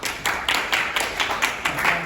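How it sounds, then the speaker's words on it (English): An audience at an entrepreneurship summit magic act claps in a quick, even rhythm, about four sharp claps per second, moderately loud and with no talk. "Give him a round of applause."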